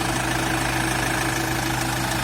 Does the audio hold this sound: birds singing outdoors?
no